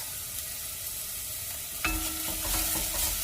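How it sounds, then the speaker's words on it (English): Onion, carrot and celery drop into hot olive oil and sauté in a pan with a pinch of salt. A quiet hiss gives way to a sudden louder sizzle, and stirring scrapes follow up close. "Now I'm gonna add my onion, carrot, and celery. Gonna go with a pinch of salt"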